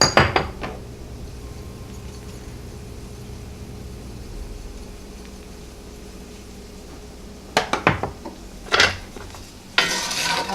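Onions and vegetables seasoned with salt and pepper being stirred in a pan: a soft sizzle with scattered scrapes and clinks of a utensil against metal, louder bursts of stirring near the end, close by.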